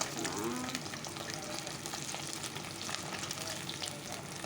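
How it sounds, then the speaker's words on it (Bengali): Folui fish frying in a hot pan of oil, a steady dense sizzle and crackle that runs close and loud the whole time, with no talking over it. "তো চলো আস্তে আস্তে মাছগুলো ভেজে নিই"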